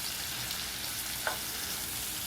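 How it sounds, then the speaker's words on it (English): Bacon frying in a pan, a steady close hiss of sizzling fat with a single brief pop partway through. "now you're going to cook that bacon again"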